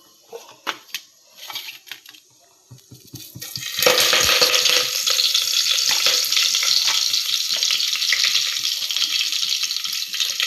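Curry leaves drop into hot oil for tomato chutney. A few light clinks and taps give way to a sudden, steady, loud crackling sizzle that continues close by.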